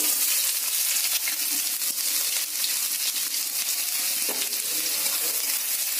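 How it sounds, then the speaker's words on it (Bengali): Chopped onion fries in hot oil with bay leaves, dried chilli and cinnamon for ghugni, a loud, dense, unbroken sizzle with faint stirring, very close and alone. "ওই তেলের মধ্যে দিয়ে দেব কেটে রাখা পেঁয়াজ কুচি"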